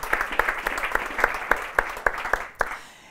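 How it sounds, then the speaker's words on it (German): Applause from a small audience at an Austrian talk, a dozen or so sharp, fairly close claps in loose rhythm over a soft bed of clapping, ending abruptly. "Und ich glaube, das ist ein Applaus wert."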